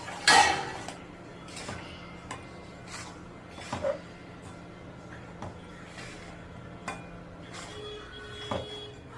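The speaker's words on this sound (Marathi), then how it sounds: "आणि हे आता चांगलं मिक्स करत आहे." A spoon stirs a sesame mixture into jaggery syrup in a pan for til gud, giving scattered scrapes and clinks against the pan, one sharp knock near the start, with quiet gaps between.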